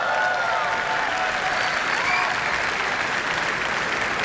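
Audience at the Google I/O 2018 keynote applauding and cheering, a steady dense roar of clapping with whoops and shouts, loud and sustained throughout.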